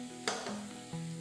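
Pineapple filling for a dessert sizzles in a pan on the stove, a steady frying crackle with a few sharper bursts as it is stirred, close and alone.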